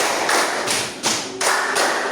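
A class of students claps together in a counted rhythmic pattern during a geography lesson, several loud group claps landing in a steady sequence with no talking.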